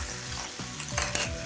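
Lamb shanks and oxtails sear in a pan with a steady, close frying sizzle and a few scraping stirs as the meat is turned for caramelisation.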